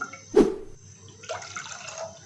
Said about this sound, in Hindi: पानी हम इसके अंदर ऐड कर देंगे।